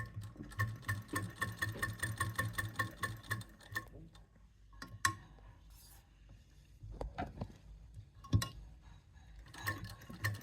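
A sewing machine runs in quick ticking bursts while stitching a petal design onto a Punjabi suit sleeve with zari thread and lace, pausing and restarting with short clicks between runs.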